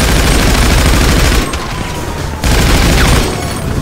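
Loud, sustained gunfire from GTA 5 Online, a dense close fusillade that briefly drops away before another roaring burst, with no talk over it.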